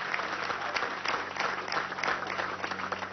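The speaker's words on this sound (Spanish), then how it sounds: "Un aplauso a la generación de oro." A crowd at a public housing handover event applauds Olympic athletes of the golden generation, a dense, even burst of clapping heard alone at moderate distance for a few seconds.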